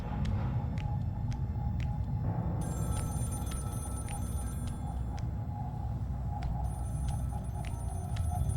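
A telephone rings again and again in a horror video game, its steady bursts of ringing repeating over a constant low, rumbling background ambience.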